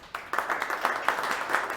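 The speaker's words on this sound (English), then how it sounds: "Big round of applause for Hrishi." Applause from a business event audience for a presenter, starting suddenly and building into a fairly dense run of claps, close and moderately loud, with a few individual hands standing out.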